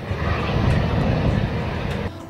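Military fighter jets and helicopters flying low over the city of Furnas during a large Brazilian Navy marine training exercise; a loud, sustained broadband engine roar fills the whole stretch, easing off slightly at the end.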